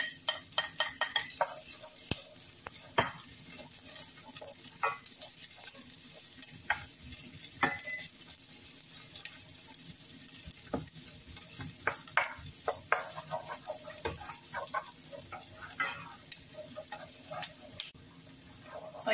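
Garlic and onion frying in a pan, a continuous crackling sizzle dotted with sharp pops and spatula clicks, steady and close throughout.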